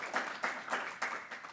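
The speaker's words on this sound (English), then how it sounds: "but a round of applause for Julia." Brief audience applause at a poetry fellows reading, a dense, fairly close burst of many hands clapping in pulsing waves, with no one speaking over it.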